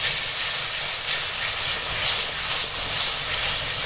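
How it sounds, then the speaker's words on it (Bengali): Water poured into spices frying in hot oil in a pan makes a loud, steady, broadband hiss that continues without a break. No one speaks over it. "এবার ওই মশলা ধোয়া বাটি দেওয়া জলটা দিয়ে দিলাম"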